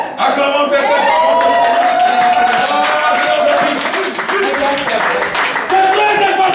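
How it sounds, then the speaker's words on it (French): An audience in a church gathering applauds and cheers loudly and continuously, dense clapping mixed with shouts and whoops, with a voice calling out over the crowd. "Acclamons très très fort."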